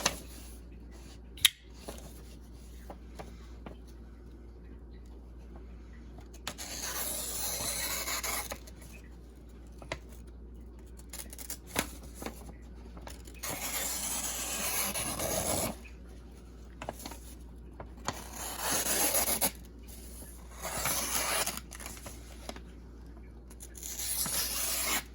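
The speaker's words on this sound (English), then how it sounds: "I'll show you some cutting of some paper and cardboard interspersed in the video." A Steel Will Plague Doctor folding knife slices through paper and cardboard, giving repeated rasping, scraping cuts in short and longer strokes, close and fairly quiet, with brief pauses between passes.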